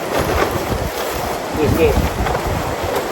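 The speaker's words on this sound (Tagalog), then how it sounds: "Malakas ang hangin." Strong wind gusts across a remote campsite, a broad rushing roar with microphone buffeting, while people talk nearby.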